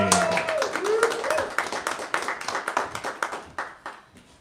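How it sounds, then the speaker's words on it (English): Audience applause at an open mic night for a performer, a brisk burst of clapping over a voice and a whoop that thins into scattered individual claps and fades. "Give a big round of applause for Lori Batista"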